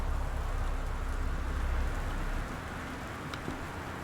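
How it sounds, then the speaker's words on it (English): Steady rain in the video game Gone Home hisses evenly, with a low rumble that drops away partway through, leaving the soft patter alone. "Oh, the sound of rain."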